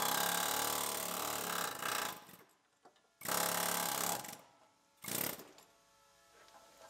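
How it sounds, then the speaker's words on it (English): Air chisel cutting off a rusted bolt on a GMC Yukon in a collision rebuild, three loud, close bursts of rapid hammering, each a second or two long, separated by near-silent pauses. "Takes a few seconds to cut it off with the air chisel."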